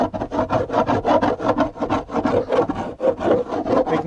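A bowl scraper scrapes bread dough out of a bowl on bake day, giving steady rhythmic rasping strokes, close and fairly loud, repeating about twice per second with no talking.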